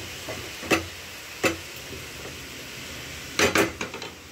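Food is mixed and stirred in a pot, with a few scattered metallic scrapes and clinks of a spoon against the vessel, including a quick cluster near the end, over a soft background hiss.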